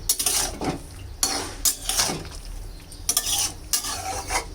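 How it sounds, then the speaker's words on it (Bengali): Fried prawns are stirred and sautéed with mixed vegetables in a pan, heard as several loud, close bursts of scraping and clattering metal over a faint sizzle. "এখন ভেজে রাখা চিংড়িগুলি দিয়ে আর একটু কষিয়ে নেব।"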